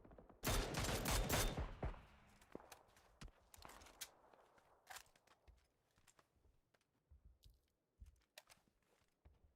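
Gunfire in the battle-royale game PUBG during an esports match: a dense, loud burst of shots at first, then scattered single cracks and shuffling movement sounds at mid distance, with no talk.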